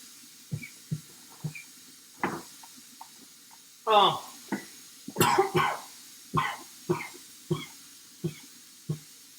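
Repeated harsh coughs and throat-clearing come in short bursts at close range, a dozen or so spread over several seconds, some heavier and rasping.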